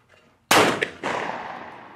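A CZ SharpTail side-by-side shotgun fires at a clay target outdoors: one loud, sharp blast, then a second report about half a second later, each trailing off in a long echoing decay.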